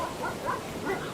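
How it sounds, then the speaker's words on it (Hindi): Dogs barking as a sound effect in a horror story set on Dumas Beach: a few faint, distant yelps and barks, spaced irregularly over a low background. "उसे अपने पीछे भागते हुए कुत्तों की आवाज सुनाई दी।"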